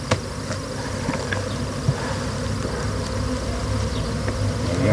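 Dense honeybee buzzing surrounds the beehives, a loud continuous swarm hum with individual bees droning close past.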